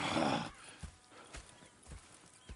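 In Red Dead Redemption 2, a horse whinnies loudly at first, then hooves clip-clop in a slow, steady rhythm of soft thuds at moderate distance.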